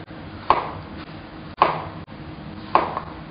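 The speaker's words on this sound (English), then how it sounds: "we're cutting that at a nice angle" A kitchen knife cuts zucchini at an angle on a cutting board, three distinct chops spaced about a second apart, each a close, crisp thud with a short scrape after it.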